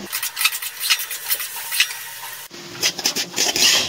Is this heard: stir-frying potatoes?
yes